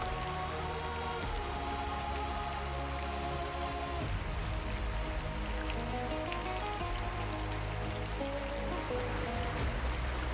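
Steady, heavy flood rain in an animated story of Noah pours down continuously, a dense hiss with a low rumble throughout.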